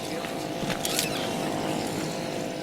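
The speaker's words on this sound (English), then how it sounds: "The outboard motor is no stranger to the Curragh." Steady drone of an outboard motor running on a Curragh, a keelless traditional boat used for inshore fishing, with water splashing and wind noise over it.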